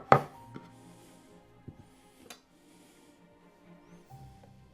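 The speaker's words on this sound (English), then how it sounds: "Now, it's a very firm cheese. Rightio. Make a nice slice there." A knife cuts through a firm block of Red Windsor cheese, giving a sharp initial crunch followed by a few faint scraping and tapping sounds of the blade and board, close and quiet.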